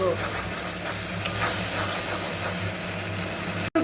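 Chilli and poppy seed paste is stirred into a sizzling pabda fish curry in a pan. A steady low sizzle with faint scraping runs under a constant humming background.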